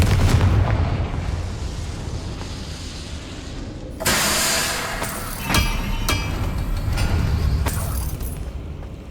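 Confringo fire spell explosion in the Hogwarts Legacy video game, a sudden loud blast over constant game background noise, with a few sharper impacts after it.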